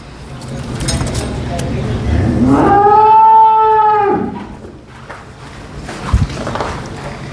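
A cow on a dairy farm lets out one loud, long moo midway through, rising out of a background of people talking and general barn noise.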